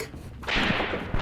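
Kneeling infantry firing rifles at the front line in Graviteam Tactics: Mius Front, a World War Two battle in fog. A quiet stretch is broken by a sustained burst of rifle fire and a sharp report at the end.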